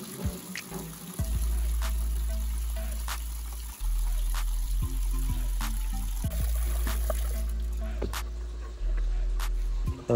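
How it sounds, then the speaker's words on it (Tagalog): Water runs from a tap into a tub being set up for guppies, trickling and splashing steadily up close. The pitch of the pour shifts as the flow changes, with a few sharp clicks and knocks over the stream. "nandito yung ating gripo para malagyan na ng tubig"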